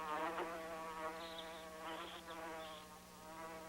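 Insects buzz around flowers while gathering nectar and pollen, a moderate, wavering drone with several short higher-pitched passes coming close and fading, alone without talk.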